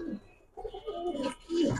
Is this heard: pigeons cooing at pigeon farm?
yes